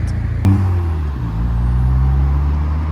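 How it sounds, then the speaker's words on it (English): A turbocharged car at a Japanese car meet in Reading, UK, rumbles nearby with a steady low engine drone, a sharp hiss-like burst near the start, then a gradual rise in engine pitch. "Still hear the turbo noise though, and you don't even need to break the law to do it."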